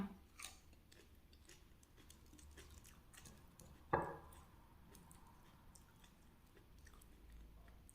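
Quiet close chewing of a favourite meal, soft irregular mouth sounds with one sharper bite or crunch midway, otherwise low and steady with no talking.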